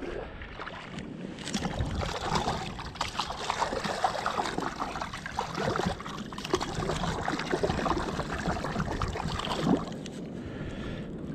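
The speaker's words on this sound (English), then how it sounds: "get a bit of a wash in the water" A freshly caught fish fillet is swished and rinsed in water, giving irregular sloshing, trickling and splashing close by, with bursts of dripping and stirring throughout, no talk.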